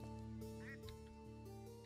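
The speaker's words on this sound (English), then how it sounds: "I love the ducks in the moat." Ducks quacking in a castle moat in a video game, a few short quacks mixed into steady layered game music and ambience.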